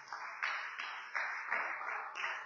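A church congregation applauding the Lord during a service, rhythmic hand-clapping in bursts of about half a second each, steady and fairly close, with possible faint voices mixed in.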